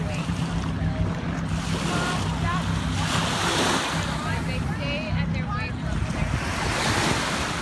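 Waves rolling onto the beach at St. Joseph, Michigan make a steady, continuous wash of surf, with wind buffeting the microphone throughout and faint background sounds mixed in.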